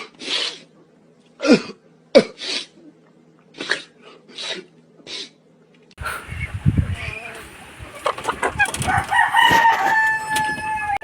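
A pure white Kelso gamefowl rooster crows loudly nearby after a run of short clucks and sneezy calls, with a busy, noisy stretch in the second half of the recording.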